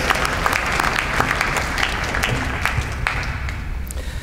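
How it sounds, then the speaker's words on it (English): Audience at a Year 12 boys' high school graduation ceremony applauding after a performance, dense sustained clapping from many hands that holds steady and thins slightly toward the end. "Let's give them another round of applause for that profound performance"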